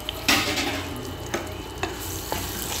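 Coriander and mashed garlic hitting hot ghee in a pan, with a burst of sizzling followed by a steady fry and a few light clinks of a spoon against the pan.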